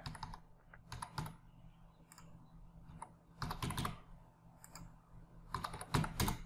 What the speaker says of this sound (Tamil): ஸோ நான் வந்து ஆதார் எண் டைப் பண்ணுறேன்.